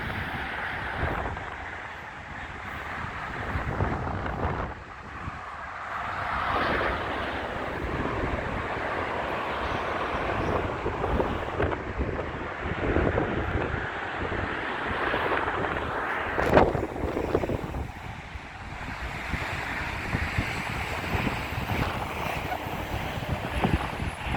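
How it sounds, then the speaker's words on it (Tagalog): Steady roaring wind buffets the microphone throughout on Tenerife, with broadband rumble and gusty surges, and a voice talks faintly underneath. "Lakas ng hangin"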